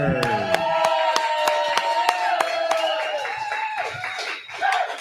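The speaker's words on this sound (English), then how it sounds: "how about a round of applause for these two that's fighters?" Crowd applause for two fighters at a combat sports event, steady dense clapping with sharp individual claps running throughout, a tonal announcer-like voice layered over it and a brief swell near the end.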